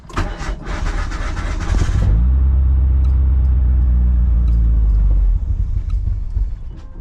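A 1991 Mitsubishi Galant VR-4 with a 4G63 engine cranks in a rapid stutter for about two seconds, catches with a loud low rumble that holds for a few seconds, then dies away to quiet.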